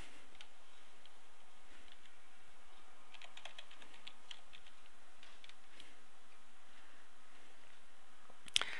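Soft, quick keystrokes tap on a computer keyboard as a username and password are entered, faint and steady under a quiet room hiss, ending with one sharper click.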